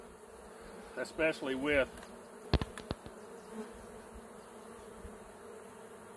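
Honey bees buzz around hive supers at an apiary, a dense steady drone close by, while a person speaks briefly near the start and a couple of sharp knocks or clicks follow.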